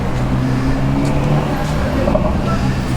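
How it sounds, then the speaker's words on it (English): A Ferrari drives past on a Palm Beach street, a loud close engine roar against a steady traffic background. "It's a Ferrari."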